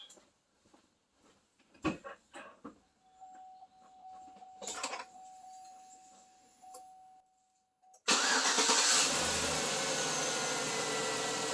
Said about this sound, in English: I'm going to walk around and fire this thing up just for a few seconds